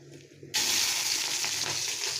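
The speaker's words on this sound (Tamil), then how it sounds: "எண்ணெய் நல்லா காஞ்சிருச்சு. கடுகு போட்டுக்கலாம்." Mustard seeds drop into hot oil for homemade potato and cabbage poriyal, bursting into a sudden loud, steady sizzle after a quiet moment, with faint crackles running through it.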